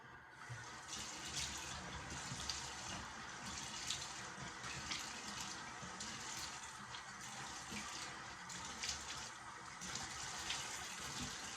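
Water runs steadily from a tap to wet a shaving brush during a haircut-and-shave routine, a constant close hiss with a few brief splashy bursts and no talking.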